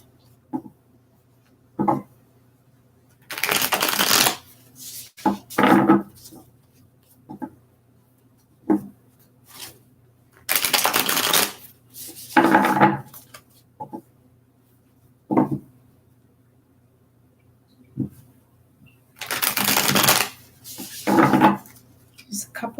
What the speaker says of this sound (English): Just a couple more shuffles here for Aquariuses.